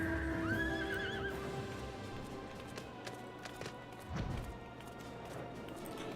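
Ifrit's steed, a horse mount in the video game Final Fantasy XIV, lets out a wavering whinny at the start, then hooves clop softly under a background music bed.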